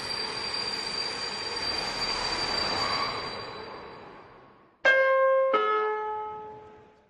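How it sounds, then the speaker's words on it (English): A train pulls into a station in the horror game Trap: a loud, steady rail rumble and wheel noise swells, then fades as it slows, followed by two bright chime tones of a station announcement signal. "We have now reached Braille train station."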